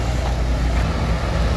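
A Putri Riau Agung intercity bus rumbles past at close range, its low engine and road noise holding steady and loud throughout, with no voices.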